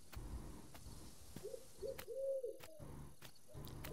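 Soft cooing bird calls in a horror video game, Rose and Cross, a few low hoots repeating in a quiet, eerie ambience with faint clicks and no talk.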